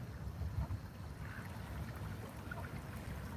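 Small waves lapping and washing on water at an outdoor spot where ducks are floating, a steady low churning wash with no clear separate breaks and no talk.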